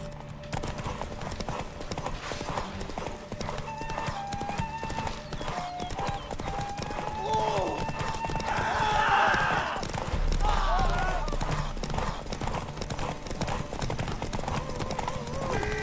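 Roach the horse in The Witcher 3 gallops with a steady, rapid clip-clop of hooves under game music, with a louder swell partway through.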